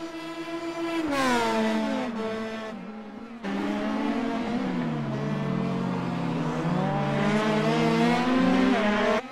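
A race car in a sim racing event at the Montreal circuit pulls out of the pit lane, its engine whining and climbing steadily in pitch through the gears, loud and continuous, with other cars droning nearby.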